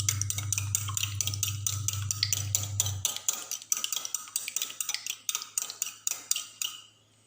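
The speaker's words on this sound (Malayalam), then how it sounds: "ഇനി ഇത് നന്നായിട്ടൊന്ന് മിക്സ് ചെയ്ത് കൊടുക്കുകയാണ്" Beaten eggs with salt are whisked briskly in a bowl: a rapid run of light clinking taps against the sides, steady at first over a low hum that stops, then continuing as distinct strokes before ending.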